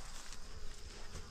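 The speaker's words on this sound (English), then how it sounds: "Bees up on this one." Honey bees buzzing around an opened hive during an oxalic acid vapor treatment, a faint, steady close-up hum with no talk.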